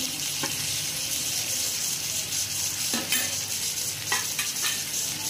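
Spices with chopped tomato, turmeric and chili powder sizzle steadily in a pan for Bengali ghugni of yellow peas, a constant frying hiss broken by a few sharp spoon scrapes and stirring knocks.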